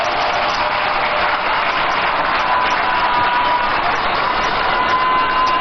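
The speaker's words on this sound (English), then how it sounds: "let's give all of them a round of applause" A dense, steady round of applause for NDC executives and party members at the 2024 manifesto launch in Winneba, a loud continuous wash of clapping with no talk over it.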